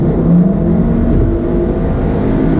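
A 2017 VW Golf R engine revs hard under heavy acceleration, a loud, steady throaty roar with no voices over it.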